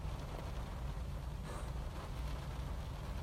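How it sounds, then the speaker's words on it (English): Steady rain hiss fills the background as a constant, soft wash of falling drops, with no voices and no distinct individual impacts. "you're probably gonna hear rain in the background"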